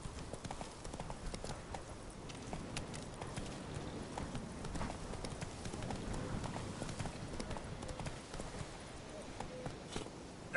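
Roach the horse from The Witcher 3 gallops in a steady, rapid clip-clop of hooves on the ground, continuous and fairly close, with a faint voice briefly in the background.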